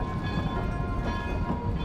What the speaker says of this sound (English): Wait for the train to arrive at the station.